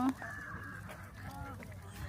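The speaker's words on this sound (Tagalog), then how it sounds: "Yun, may dumating na swan, oh." Faint honking calls of a swan, distant and repeated, over a murky outdoor park background in Aschaffenburg, Germany, with some voices.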